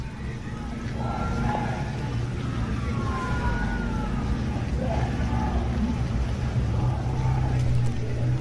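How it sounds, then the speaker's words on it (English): A fire truck's siren wails faintly in the distance, rising and falling over a steady rumble of street traffic and wind during a protest in Minnesota. "That's a fire truck trying to get around all this."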